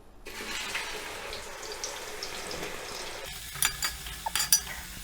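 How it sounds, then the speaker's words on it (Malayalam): Raw banana slices for Kerala upperi chips dropped into hot oil, giving a steady broad frying sizzle throughout, with a few sharper crackles and stirring clatters near the end. "ഉപ്പേരി വറക്കാനായിട്ട് ഇടുകയാണ്"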